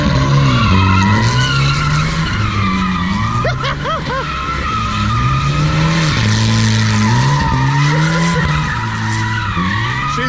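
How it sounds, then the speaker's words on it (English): A Volvo panel wagon drift car with an unwelded G80 locker spins its wheels, engine revs rising and falling through several loud surges with tire squeal layered on top, close and continuous, with a faint voice in the background. "So it spins two wheels for a bit."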